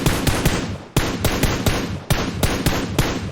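Rapid bursts of gunfire in PUBG Mobile, sharp repeated shots in quick volleys with short gaps, loud and close.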